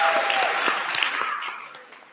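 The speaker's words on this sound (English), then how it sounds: "So let's give Miss Betty Stein another round of applause." Dense audience applause at an awards ceremony honoring an advertising woman of the year, a full room clapping loudly and then tapering off toward the end, with no talk.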